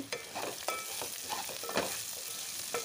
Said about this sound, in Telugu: ఈ ఆనియన్ అయితే ఆయిల్లో వేగనివ్వాలి. అయితే ఆనియన్ అయితే వేగిన తర్వాత ఒకసారి మంచిగా అయితే కలుపుకోవాలి.